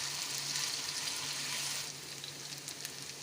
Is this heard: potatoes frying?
yes